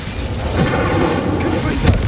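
Confringo and Incendio fire-spell blasts from Hogwarts Legacy roar as a loud, dense boom with crackling rumble that fills the whole short moment, close and heavy.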